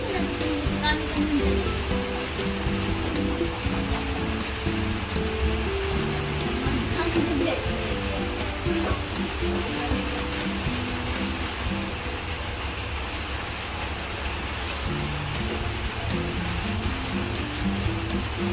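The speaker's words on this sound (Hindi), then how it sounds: "इसका मतलब बारिश बहुत तेज़ आएगी। मतलब आएगी क्या, आ रही है" Heavy rain pours in a steady, dense roar that never lets up during a lightning storm, with muffled voices and a low hum underneath.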